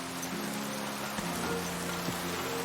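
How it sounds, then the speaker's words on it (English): Steady rain in the video game Kingdom Come: Deliverance 2, a soft even patter and hiss of drops on surfaces with faint background tones, no talking. "Just as it starts raining."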